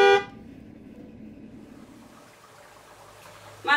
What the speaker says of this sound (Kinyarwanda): abantu bavuze amahoni menya baje hano